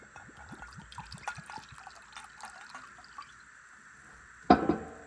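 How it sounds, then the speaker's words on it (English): Vinegar being poured into a container for a balsamic vinaigrette: a thin, gurgling trickle of liquid runs steadily for several seconds, close by, ending in a sudden louder knock and splash. "I'm just gonna pour that all in."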